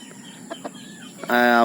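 A few short, quiet clucks from chickens, including Red Jungle Fowl, then a sudden loud, drawn-out call from a bird close by.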